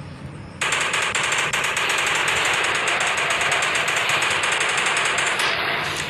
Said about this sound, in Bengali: তো এদের জন্য রেখে দিয়েছি মেশিন গান।